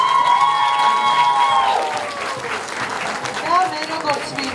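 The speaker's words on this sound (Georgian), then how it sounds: "ერთი გებრიელი აპლოდისმენტი ჩვენს ბავშვებს." An audience applauds schoolchildren at a school's last-bell ceremony, a full burst of clapping with some cheers that gradually softens, while voices ring over it at the start.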